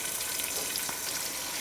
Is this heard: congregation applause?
no